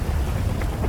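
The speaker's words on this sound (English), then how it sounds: "thunder," Heavy rain with a low rumble of thunder in a GTA 5 game world, a thick continuous wash of noise with deep rolling energy underneath and no voices.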